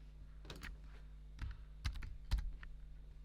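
Soft clicks from someone typing a password on a computer keyboard, a few scattered bursts of keystrokes, quiet and close, with no speech.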